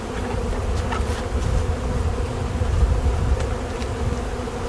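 Many honeybees buzz around a hive of a large queenless colony in spring, a dense, continuous hum close by, with individual bees droning past.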